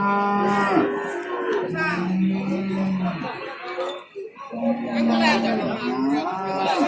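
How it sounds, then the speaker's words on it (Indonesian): Limousin and Simmental cattle low repeatedly at a busy cattle market, several long moos near and clear over crowd chatter and occasional clinks, with people talking in the background. "Ini masih di deretan sapi limusin, ada juga yang simental"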